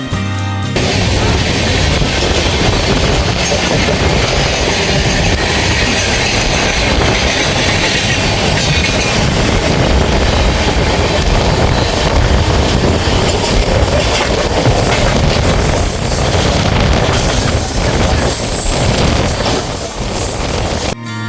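A Patharia Express train runs on rails toward Digha, giving a loud, steady rumble with faint clickety-clack throughout and no voices.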